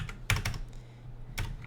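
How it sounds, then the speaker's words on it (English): Quick keystrokes on a computer keyboard: a couple of short bursts of clicks, close and quiet, separated by a brief pause. "Sorry, I can't type today."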